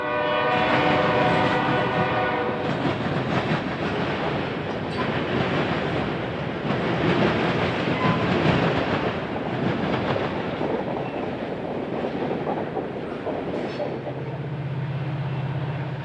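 Freight trains rumble through a junction on the Villa Grove Subdivision with a loud, continuous roar and rail clatter, a horn sounding near the start and a low tone emerging near the end.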